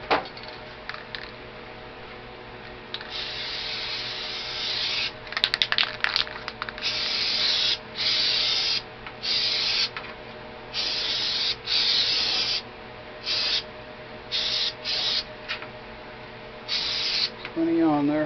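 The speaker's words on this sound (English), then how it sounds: "using this spray stripper is it sprays out of there really quick and it splatters" Paint stripper sprays in quick repeated hissing bursts onto a Mosin Nagant rifle stock that is being refinished, close and loud, with short pauses between squirts.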